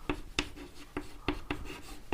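Chalk or marker strokes on a classroom board, about seven short scratchy taps and rubs in an uneven rhythm, close and fairly faint with no talking.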